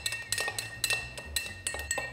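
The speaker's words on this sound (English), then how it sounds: "And then we're just gonna stir this together until it's all nice and incorporated." A maple old fashioned being stirred in a glass, with a spoon ticking and clinking against the sides in a quick, repeated rhythm, light and close, with no voices.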